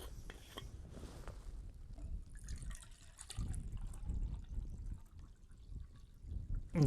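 Water poured outdoors on Combs Moor in the Peak District: a soft, uneven trickle and splash, quiet and close, with low outdoor rumble underneath.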